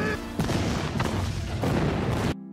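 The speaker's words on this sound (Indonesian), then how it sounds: "Ledakan di gedung itu membuat Ketua Taesin dan Wali Kota bahagia" An explosion in a building, from a Korean drama, roars as a loud, dense, sustained blast with rumbling debris, then cuts off abruptly into near silence.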